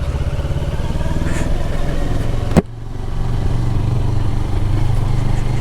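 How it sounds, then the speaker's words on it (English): A CFMoto CLX Heritage motorcycle idles steadily with a low, throaty stock exhaust rumble, close by, interrupted by a sharp click midway before the running continues. "it's the stock exhaust, just it just sounds so freaking lovely"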